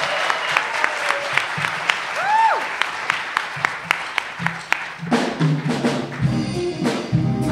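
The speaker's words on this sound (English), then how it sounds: "Another round of applause for Best Student Film." Audience applause at the Philadelphia Independent Film Awards ceremony for Best Student Film: a sustained burst of clapping from the crowd with some scattered cheers, while a voice speaks over it toward the end.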